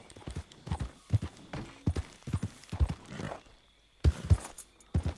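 Horse hooves in Red Dead Redemption 2: clustered clip-clop steps on hard ground, close and uneven, pausing between bursts, with brief faint talk.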